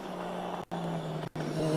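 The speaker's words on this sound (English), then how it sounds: "Group N Subaru Impreza WRX. Very distinctive sound." A Group N Subaru Impreza WRX rally car on a stage of the Ulster Rally, its engine drone holding steady and broken by two brief gaps, like quick gear changes or lifts, at moderate distance.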